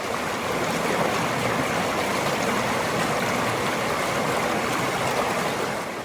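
Stream water rushing steadily over rocks at a backpacking crossing, a loud, continuous close-up flow with no talk.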